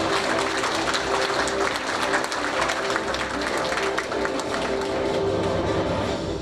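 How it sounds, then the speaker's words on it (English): Dense, sustained applause from a large crowd at a university campus launch in Batu Kawan, Penang, Malaysia, steady and loud for the whole stretch. "Once again, ladies and gentlemen, a big round of applause."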